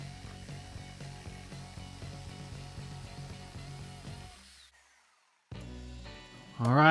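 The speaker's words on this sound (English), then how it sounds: "always fun to use some power tools" A power tool cuts through an aquarium stand, running steadily at moderate loudness for about four seconds before winding down, followed by a pause and then a brief clatter and louder burst at the end.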